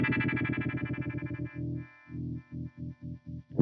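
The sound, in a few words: harmonic tremolo effect pedal with steep crossover slope, mid scoop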